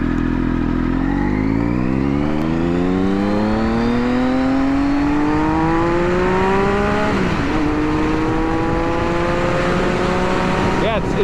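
A 2002 Triumph Speed Triple 955i motorcycle's three-cylinder engine revs up steadily, pitch climbing over several seconds, dipping briefly with a gear change, then rising again, loud and close under constant wind rush.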